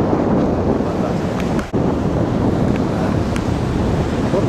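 Sea surf on a sandy deserted beach in Crimea rolls steadily as a broad wash, with heavy wind buffeting the microphone throughout.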